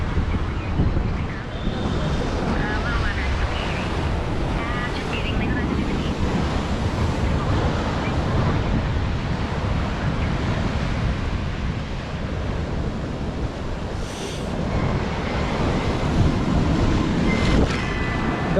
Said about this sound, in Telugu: ఇది కంప్లీట్గా రాక్ బీచ్